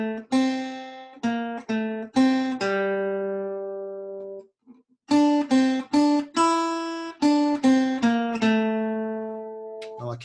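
Guitar picking out four bars of a theme, a bright, bouncy run of plucked single notes with a held note and short pause midway, then the phrase resumes, played alone.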